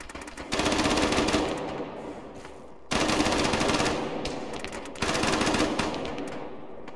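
Rapid machine-gun bursts in a tank video game with T-34s, three long loud volleys, each trailing off before the next starts.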